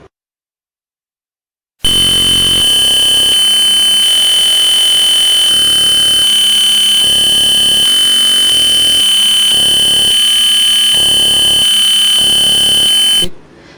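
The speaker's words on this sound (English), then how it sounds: "As you can see that buzzer is activated" A gas detector alarm buzzer sounds loud and shrill, droning steadily for about twelve seconds after a silent start, then cuts off abruptly.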